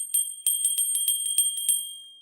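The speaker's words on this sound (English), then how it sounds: "I got this bell there." A small corroded bell from Sri Lanka rings in a quick series of about ten bright, tinkling strikes, close and clear with a sustained metallic tone that fades at the end.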